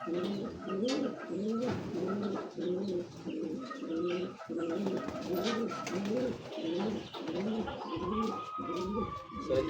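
A racing pigeon coos in repeated soft, rolling phrases close to the microphone, with a faint background chirp and no talking.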